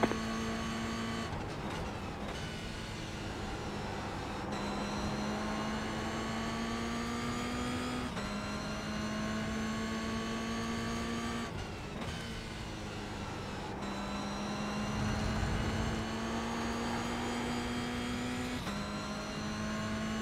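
Simulated GR86 race car engine in the iRacing game holds a steady droning whine, shifting pitch slightly at each gear change and corner, continuous and fairly loud with no talk.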